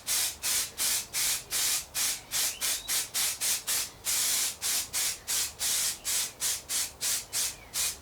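Rapid bursts of aerosol primer spray in a thin coat onto a wiper blade arm, a steady rhythm of short hissing pulses with brief gaps, close and fairly loud.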